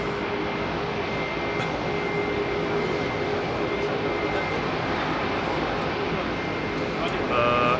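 Etihad Airbus A330-300 jet airliner passing at Heathrow, a steady broad roar throughout with a tonal whine, voices nearby in the background.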